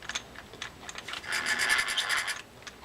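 Shakespeare Fulmar LD lever drag fishing reel with its spring failing to engage, giving close, quiet rubbing and rasping mechanical clicks that build into a brief rapid ratchet-like burst before fading.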